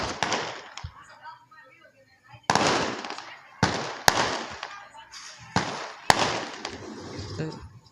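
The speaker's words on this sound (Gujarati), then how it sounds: "આ ફટાકડા ફૂટતા જો" Diwali firecrackers bursting outdoors outside a house, a string of sharp loud bangs at irregular intervals, each with a crackling tail, with faint voices in between.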